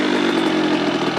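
Kawasaki KX100 two-stroke dirt bike engine giving a brief, steady buzzing rev, close and loud, with no talking over it.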